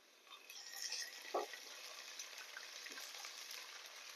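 Ginger garlic paste hits a hot pan while cooking veg salna, a soft, steady sizzle that swells as the paste goes in, with a couple of faint clinks from the utensil, quiet and close with no talking.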